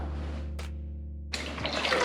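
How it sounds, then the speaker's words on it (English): Water runs and fills in a basin for washing a dirty hat, a steady low rush that stops, then a splashy burst as the hat is dumped in and churned. "you can go ahead and dump the entire hat in the water"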